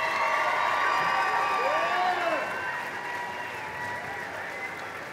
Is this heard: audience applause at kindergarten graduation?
yes